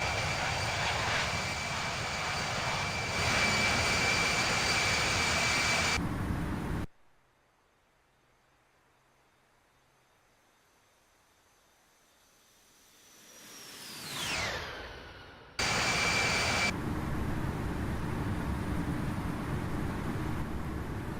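Simulated airliner jet engines of a Skywest flight from Atlanta to Miami roar steadily, cut out into near silence, return as a swelling whine that sweeps sharply down, then resume their full constant roar.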